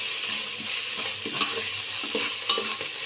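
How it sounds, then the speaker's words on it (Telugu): Ginger garlic paste fries and sizzles steadily in a pan, with scattered stirring scrapes over a constant hiss, close and moderately loud, no talking; cooking for a country chicken pulao. "అల్లం వెల్లుల్లిపాయ వేగాలి"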